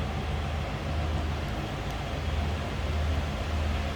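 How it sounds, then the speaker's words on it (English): A 1996 Cadillac Fleetwood Brougham idles smoothly and quietly, a steady low hum under a soft broadband background, with no voices. "Nice, smooth running, quiet Cadillac."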